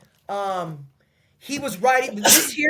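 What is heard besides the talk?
sneeze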